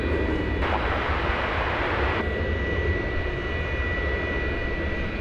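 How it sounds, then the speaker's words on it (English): Jet engines of a Boeing 787 Dreamliner roll toward takeoff at an airport, a loud, continuous whine and roar with a steady high tone and a brief surge of broadband rush partway through. "And that Dreamliner is now moving into position to take off for Phoenix."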